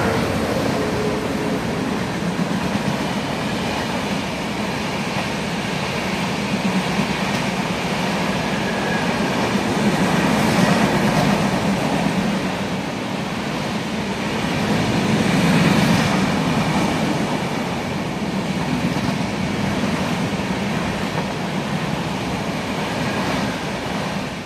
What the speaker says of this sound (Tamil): இப்போ நம்பர் எக்ஸ்பிரஸ் ட்ரெயின் ஒன்று வந்துட்டுருக்கு